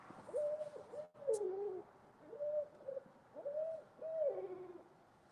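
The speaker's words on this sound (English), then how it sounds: "thankfully, that's an owl." An owl calls outdoors near a night catfishing spot: about five low, hollow hoots in a loose rhythm, fairly close and clear against a quiet background.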